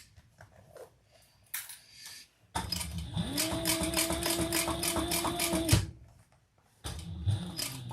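A sewing machine stitches a crossbody bag in a steady whirring run of about three seconds, with short bursts of handling noise before and after.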